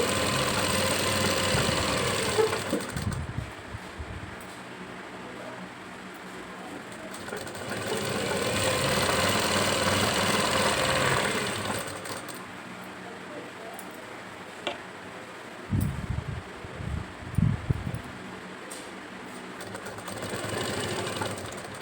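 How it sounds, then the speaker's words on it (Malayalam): An electric sewing machine stitches the side seam of an Aliya-cut churidar in two long, steady whirring runs. Quieter gaps of fabric handling and knocks separate the runs, and no one speaks. "അപ്പോൾ ചുരിദാറിൻ്റെ സൈഡ് സ്റ്റിച്ച് ചെയ്ത് കൊടുക്കാം."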